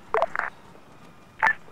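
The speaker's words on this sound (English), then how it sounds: "Spam phone call." An in-game phone rings in the ARMA 3 military simulation, with two short electronic tone bursts close together, a pause, and then one more, quiet against a low background.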